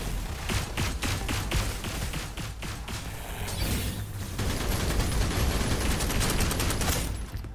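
Rapid automatic gunfire from a weapon in the video game Snowbreak rattles out in loud, dense bursts, close and continuous with mechanical clatter, no voices over it.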